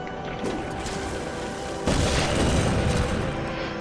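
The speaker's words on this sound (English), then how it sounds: "I'm just gonna keep throwing these damn bombs at this thing." In Darksiders 2, thrown bombs go off as deep booming explosions over a dense, continuous game soundscape, with a heavier blast partway through that stays loud to the end.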